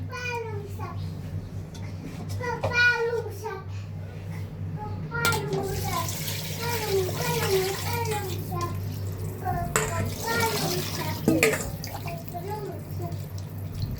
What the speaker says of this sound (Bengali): এখন আমি পানি দিয়ে দিব পরিমাণ মতো।